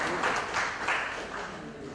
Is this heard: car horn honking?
no